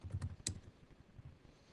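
Commands typed on a computer keyboard, a few soft, quick key taps and clacks close by in an otherwise quiet room, no voices.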